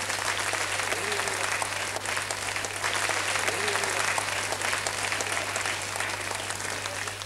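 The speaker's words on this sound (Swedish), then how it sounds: "En jätteapplåd." A crowd at a 1992 DJ championship final at the Stockholm fair hall claps in a steady, even wash that carries on without pause. It sounds fairly distant and soft over a low electrical hum.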